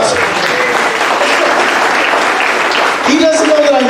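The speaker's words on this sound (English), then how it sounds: "How about a big round of applause?" Audience applause fills a comedy show at Hondah Casino, dense steady clapping from a crowd throughout, with a voice starting to speak over it near the end.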